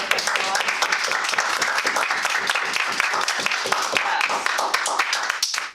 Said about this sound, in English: Let's just go ahead and give him a round of applause.